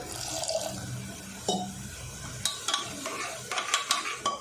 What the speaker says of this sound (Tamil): இப்போ இதை கூட கொஞ்சமாக நம்ம இதை தண்ணி சேர்த்துக்கலாம்